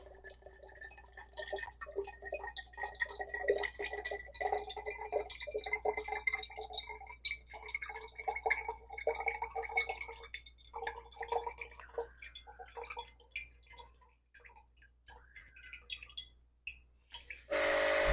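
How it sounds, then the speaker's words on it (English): Water runs through a Milky Plant milk maker, a soft continuous trickle and patter with scattered drips, fairly quiet and close. "we're seeing it's just running water through the machine"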